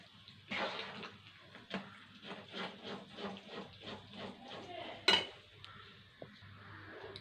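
A spoon stirs a pot of simmering water as flour is poured in slowly, making soft, rhythmic scraping and clinking strokes. Near the end there is one sharper clink. Everything is faint and close.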